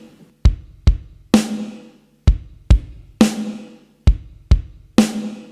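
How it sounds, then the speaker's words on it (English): A stomp-stomp-clap pattern on drums: two punchy bass drum beats and a crisp snare, played three times in a row at a slow steady pace, loud and dry. "So this first bar groove is 2 bass drums and a snare."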